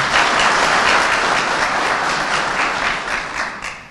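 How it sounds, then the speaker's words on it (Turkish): A large crowd of farmers and villagers at a Turkish agricultural event breaks into loud, dense applause that holds steady, then starts to fade toward the end. "O yüzden bir kendinizi bir alkışlamanızı istiyorum."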